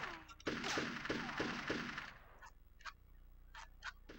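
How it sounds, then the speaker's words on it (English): Rapid bursts of gunfire in the Army Men: Sarge's Heroes video game, a loud dense rattle for about two seconds followed by several short, quieter separate bursts. "Someone's shooting at me."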